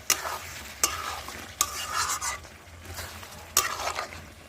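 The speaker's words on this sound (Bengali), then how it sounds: "কষানো প্রায় হয়ে এসেছে।" Chicken and potatoes stir-fried in a pan for a Bengali chicken kasha over a low flame, with a spatula scraping the pan in several sharp strokes over a steady close sizzle, no talking.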